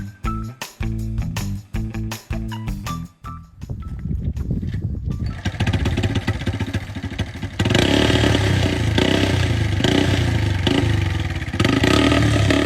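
A homemade motorcycle engine starts with a run of loud, separate chugging bursts, then settles into a continuous, rough, buzzing run that grows louder and denser toward the end.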